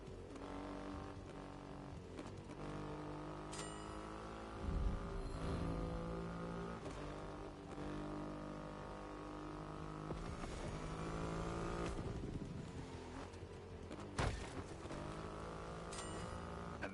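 A Triumph Rocket 3 motorcycle with a 2.5-liter engine in The Crew Motorfest racing game runs in a steady, fairly quiet drone, the engine note rising and falling through a few revs and gear changes.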